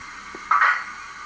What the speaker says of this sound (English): the buffer up is like this